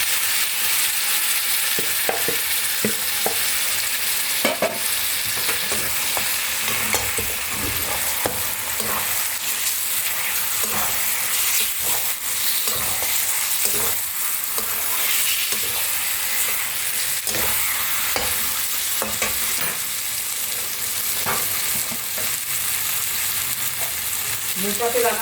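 Marinated mutton frying in a pan with green chilli for masala curry, a loud continuous sizzle with frequent scraping and clattering strokes of a spatula as the meat is stirred.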